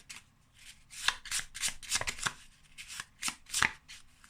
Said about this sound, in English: So I'm going to pull a card who this reading is for.